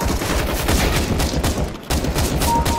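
Counter-Strike: Global Offensive deathmatch with a SCAR-20 rifle and other weapons, a dense, continuous fusillade of overlapping gunfire, loud and close, with a few sharper cracks and no pause throughout.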